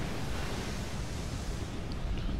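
Steady broadband wind roaring in Tomb Raider, a loud, constant gusting rush with no talk over it.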